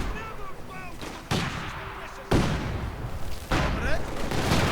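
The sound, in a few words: MG-42 machine gun fire in a video game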